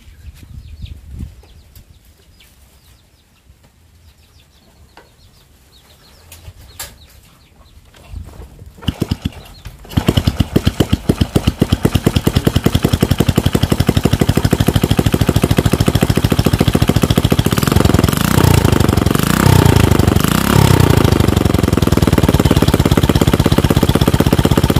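Quiet rustling gives way to a kick-started motorcycle engine starting up, then running loudly at a steady, rapid idle for the rest of the clip, the engine smoking.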